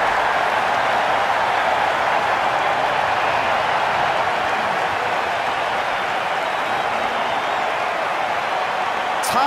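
Stadium crowd in the cricket video game Cricket 19 roars and applauds in a steady, dense wash of cheering that holds at full level throughout, with no talk over it.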